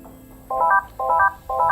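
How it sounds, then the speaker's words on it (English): A Polycom VVX 411 desk phone rings for an inbound call with three short electronic trilling bursts at an even pace, clear and close. "Here's an inbound call."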